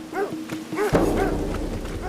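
A dog barks several times in short bursts, then a heavy thud lands and a sustained rumbling noise continues beneath the sound.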